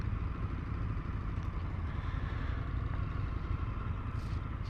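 An Indian FTR1200 S motorcycle engine rumbles steadily at low revs, close but fairly quiet, with an even droning tone that holds for a few seconds.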